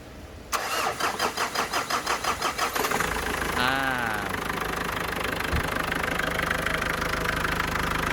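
A car engine, just repaired after a cracked timing belt and stripped gear, cranks with rhythmic starter pulses for a couple of seconds, catches with a rising rev, then settles into a steady, even idle.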